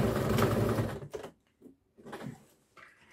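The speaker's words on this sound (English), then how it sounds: "So we're going to sew down that remaining seam on the lining." Sewing machine stitching the remaining lining seam of a Noodlehead Compass Bag, a steady dense run of needle strokes for about a second, then short stop-start bursts with pauses between.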